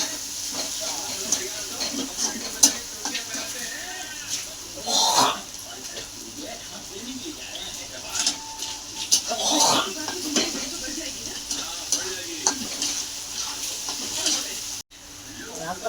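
Green chillies and crushed garlic fry in a pan for a Marathi brinjal dish, a steady soft hiss and sizzle running throughout with faint stirring clinks, moderately close.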